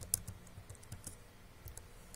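Soft, quick clicks of keys on a computer keyboard as a command is typed during a Windows installation fix, faint and close with a few irregular taps.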